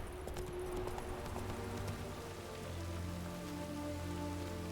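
Steady night rain falls in the Witcher 3 Hearts of Stone game world, a dense even patter with horse hooves clip-clopping through it and a low tonal background hum.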